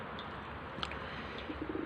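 Pigeons coo faintly, a few soft low calls rising briefly out of a steady outdoor background hiss.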